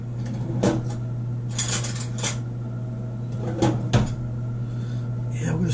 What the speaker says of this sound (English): Yeah, I'll get a spoon.